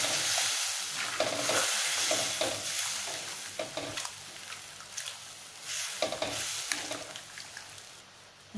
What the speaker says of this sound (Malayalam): ഇനി നമുക്കിത് നന്നായിട്ടൊന്ന് മിക്സ് ചെയ്ത് കൊടുക്കാം.